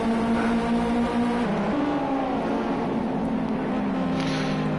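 Race cars on a wet Donington Park track give a steady, loud engine drone with shifting pitch as the pack drives through, and the engine noise continues without a break.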